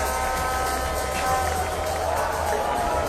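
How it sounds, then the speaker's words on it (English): Crowd cheering at a cricket match at Queen's Sports Club, a continuous, broad roar of many voices holding at a steady level throughout, close and enveloping with no pauses. "Fantastic crowd in here in Queen's Sports Club."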